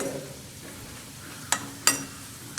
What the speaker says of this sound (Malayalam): നമ്മൾ നട്ട്സ് വറക്കാൻ പോവാ.